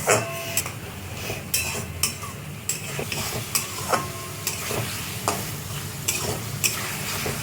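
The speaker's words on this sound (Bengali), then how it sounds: "রসুনটাকে একটু তেলের মধ্যে ভেজে নিতে হবে" Mustard and garlic spice paste sizzles steadily in hot oil for a fish curry, with a spoon scraping and knocking against the pan in a loose, regular rhythm close by.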